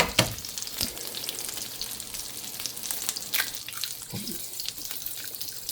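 A single sausage and an egg frying together in a pan for an Italian breakfast sandwich, a steady close sizzle and crackle with a few sharp spits and pops, no talking.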